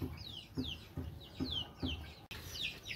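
Newly hatched chicks peep in rapid, regularly repeated descending chirps, with soft low clucks from hens underneath, close by and fairly quiet.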